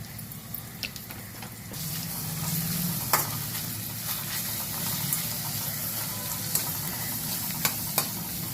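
Curry leaves, with onion pieces and green chilies, sizzle in hot oil in a pan, a steady close frying hiss punctuated by sharp clicks of a spoon stirring against the pan.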